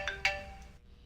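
Cellphone ringtone with two short bright chime notes near the start, followed by a faint sustained electronic tone that cuts off; quiet and close, with no talking.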